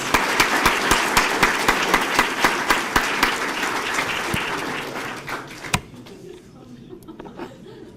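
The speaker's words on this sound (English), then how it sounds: "Give him a round of applause, please." Audience at a police promotional ceremony applauding, a full round of clapping with rhythmic sharp claps and light laughter, tapering off after about six seconds to quieter room sound.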